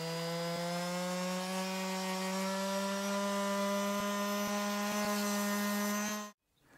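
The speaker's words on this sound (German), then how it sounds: "jetzt kommt der Feinschliff und dann nehmen wir einfach eine Schleifmaus dafür." A detail sander smooths a wooden salt and pepper mill with a steady, close motor hum that runs unbroken for about six seconds, with faint scratchy contact noises, then cuts off abruptly.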